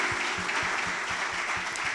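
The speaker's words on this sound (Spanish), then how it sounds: "Dale un fuerte aplauso al Señor." A church congregation applauds after a prayer, a sustained wash of many hands clapping with a steady rhythmic pulse underneath, loud and continuous throughout.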